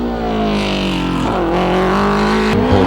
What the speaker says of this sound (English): As the Baby Grand miniature of Sean Williamson's now enters the chicane